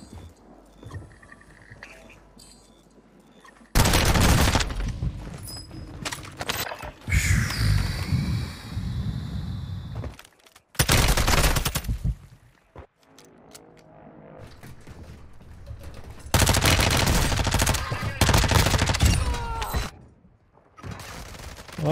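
Loud bursts of rapid gunfire in the Call of Duty: Warzone video game on Ashika Island come in several dense volleys separated by quieter stretches of game ambience.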